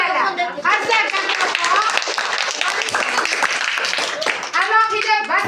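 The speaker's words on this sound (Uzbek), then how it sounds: "barakalla qarsak" Children in a school classroom clap together in a lively, fast burst of many small hands, mixed throughout with excited children's voices and chatter.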